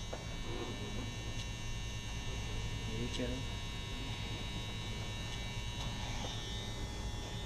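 A Wahl Master hair clipper with its blade set fully open runs with a steady electric buzz and hum, held at a constant low level without any talking.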